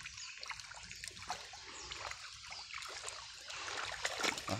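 River water flowing near a riverbank, a continuous soft rushing and trickling with small splashes, close but faint, with no talk.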